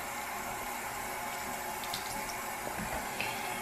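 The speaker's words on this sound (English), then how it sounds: "And then I rinse my mitt in cold water." Cold tap water running steadily into a sink as a makeup brush cleaning mitt is rinsed under it, a close, constant rushing stream with faint splashes and no talking.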